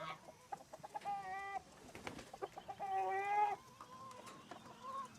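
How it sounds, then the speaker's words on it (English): A flock of chickens clucks and calls up close, several drawn-out squawking notes mixed with short scattered clucks and pecking sounds. "That's a lot of chickens, Brooke."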